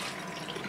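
Warm dirty water being rinsed, a brief, faint steady splashing and running of liquid with no voices.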